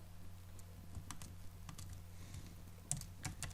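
Someone types a text label on a computer keyboard, with soft, quick key taps in an irregular rhythm over a low steady hum.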